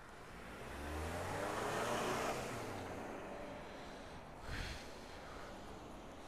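A car passes along a road, its engine and tyre noise swelling to a peak and then fading away over a few seconds, with a brief bump of sound afterwards.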